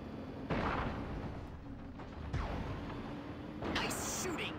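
A house blown up in Destroy All Humans! Remake, with several heavy booming blasts and rumbling bursts spread across the moment, loud and close over continuous game noise.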